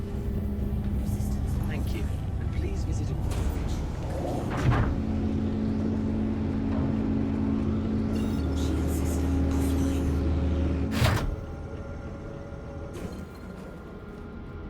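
Engines of a Drake Golem mining ship in Star Citizen spin up with a steady droning hum and rumble that shifts pitch partway through, then a loud whoosh, while someone talks over it.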